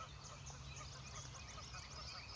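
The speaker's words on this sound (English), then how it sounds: "There's geese over there with babies." Geese honk among ducks and goslings at a trail-side pond, giving a steady run of overlapping calls against outdoor background noise.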